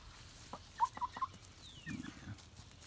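An older hen recovering from being egg bound gives a few soft clucks, then a short low murmur, faint and close in a quiet room.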